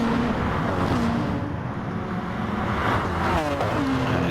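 A McLaren race car in a racing video game at Sardegna drones along with a loud, steady engine roar and faint gear changes, mixed with other cars in a dense wash of noise and no talking.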